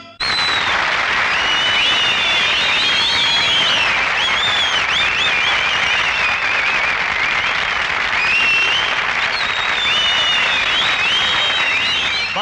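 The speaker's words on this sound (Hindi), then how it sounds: "आपकी तालियां गवाह हैं कि आपको हमारे आइटम्स पसंद आ रहे हैं" An audience at a stage show applauds loudly and steadily, a dense wash of clapping that fills the whole stretch without pause.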